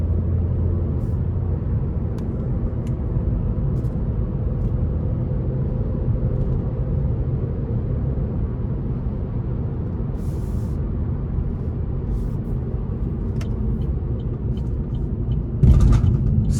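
A 2020 Chevrolet Sonic Premier with a 1.4L turbo engine accelerating onto an interstate, a steady low rumble of engine and road noise heard from inside the cabin, continuous and even, with a brief bump near the end.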